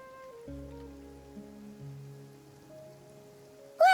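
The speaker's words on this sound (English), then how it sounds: "It's raining." Rain falls in a Genshin Impact game scene, a soft steady patter mixed under sustained musical tones, ending with a brief sharp chime.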